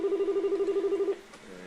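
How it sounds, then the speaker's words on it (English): A phone rings nearby in a quick pulsing trill that lasts about a second and then cuts off, leaving quiet room tone behind. "And that's my phone,"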